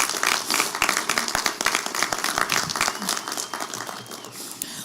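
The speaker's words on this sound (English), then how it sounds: "A round of applause for the graduates" Applause for the graduates at a Schenectady high school graduation ceremony, as a crowd claps and cheers loudly in a dense, continuous patter of many hands that slowly eases off.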